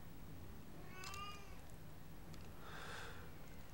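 A house cat gives two faint, distant meows about two seconds apart over a steady low background hum indoors.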